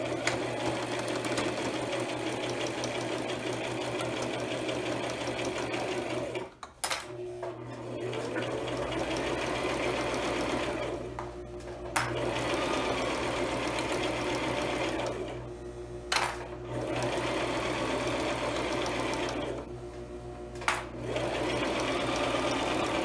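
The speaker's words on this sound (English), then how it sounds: "now I'm going to start to stitch both of these pockets together at the end." A sewing machine stitches two fabric pockets of a handmade pouch together with a steady, close mechanical whir, pausing briefly three or four times before running again, with no one talking.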